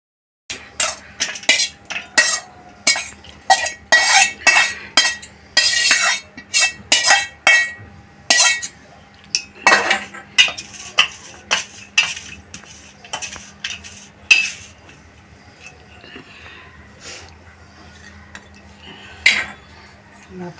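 Corn bhel being mixed with a metal spoon in a dish, a rapid run of sharp clinking scrapes for several seconds, then sparser knocks and taps close by.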